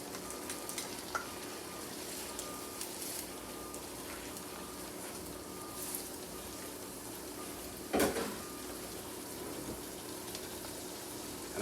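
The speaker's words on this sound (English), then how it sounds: "And then I'm going to add my mussel." Mussels hit a hot frying pan and sizzle steadily, with a constant crackling fry, small pops and one brief louder clatter midway, and no talking.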